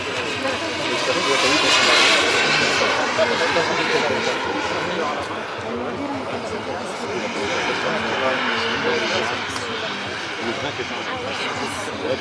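A 1/9 scale model Rafale jet with a small turbine engine producing about 9 to 10 kg of thrust, roaring steadily and loudly at an outdoor flying meeting, with a continuous whine and rumble that swells early and then holds, while people talk nearby.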